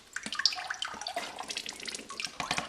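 Water draining out of a hydroponic bubble box, a close, soft trickling and splashing with irregular gurgles and drips.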